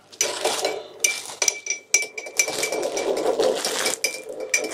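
A spoon stirs mint sauce through food in a pan, giving repeated close metallic scrapes and clinks in an uneven rhythm with brief pauses.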